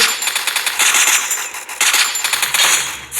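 Gunfire in a shooting video game, rapid bursts of automatic fire crackling in quick succession with brief gaps, loud and close throughout, with no talk.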